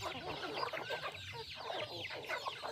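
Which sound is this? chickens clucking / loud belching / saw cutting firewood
chickens clucking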